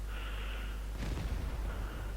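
One booming tank cannon shot in World of Tanks, from a KV-2, a short burst with a quick rumbling tail, fairly quiet over a steady low hum.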